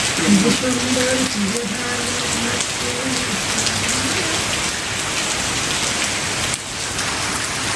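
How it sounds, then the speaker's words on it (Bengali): Heavy rain pours at night in Greece in a dense, steady hiss that stays even throughout, with a brief murmur of voices near the start under the downpour. "এই যে দেখছো কেমন বৃষ্টি অনেক"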